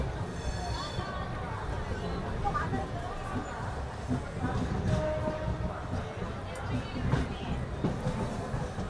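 A Western Railway train rolls through platform 1 at Renigunta Junction, a continuous rumbling clatter of wheels with a murmur of crowd babble and voices at the busy station.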